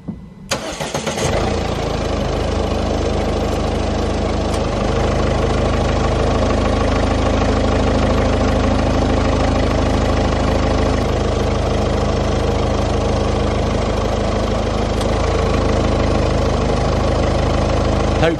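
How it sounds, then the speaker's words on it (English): A car engine turns over and settles into a steady, loud idle close by, its even drone running alone for the whole stretch with the air conditioning switched on. "So I'll start the engine up, get the aircon working, and we're going to test pin 2 of the relay."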